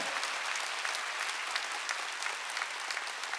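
Steady applause from a church congregation at a Wednesday worship service, dense overlapping claps filling the whole stretch at a fairly distant, even level with no voices.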